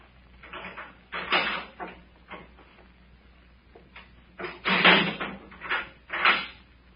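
Door opening in an old-time radio drama, a series of wooden knocks and creaks with shuffling movement, fairly close and loud, with no voices over it.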